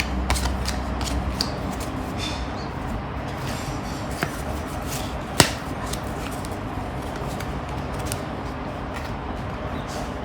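A deck of tarot cards shuffled continuously at close range, a dense steady rustle and riffle of card edges with a few sharper clicks, no talking heard.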